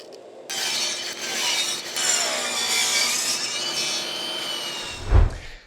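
A saw recuts a wooden crosscut sled in a workshop, giving a steady, loud sawing rush for several seconds that fades out, followed by a brief low thump.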